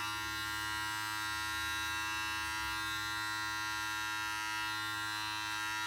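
Hair clippers fitted with a 1½ guard, lever open, buzz steadily and continuously through a haircut, a close, even electric hum with no talking.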